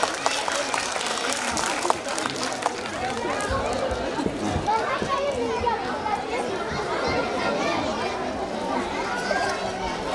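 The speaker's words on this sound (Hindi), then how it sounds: "इनके लिए एक जोरदार ताली हो जाए।" A school annual-function audience at Rabindra Bhawan, Asansol, breaks into steady clapping, a dense patter of many hands mixed with crowd chatter and children's voices throughout.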